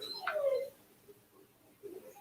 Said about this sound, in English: to hear the puppy whining in the background that is trying to get into my daughter's room